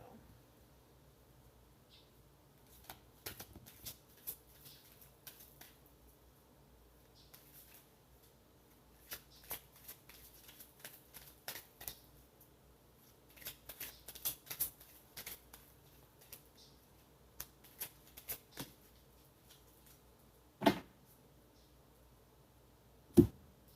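Oracle goddess cards being shuffled and drawn from a deck, soft scattered flicks and slides, quiet and close, with a few sharper snaps near the end.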